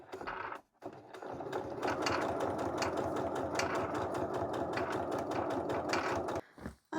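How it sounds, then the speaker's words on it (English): A sewing machine hemming a pair of trousers runs at a steady, loud whirring chatter for several seconds after a brief start, then stops near the end. "And then we will just start sewing."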